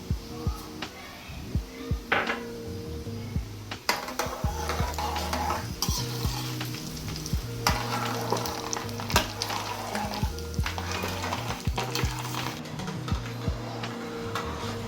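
Cumin and other tempering seeds sizzle and crackle steadily in hot oil for a tomato pickle, with occasional stirring and clinks of a pan and utensils close by.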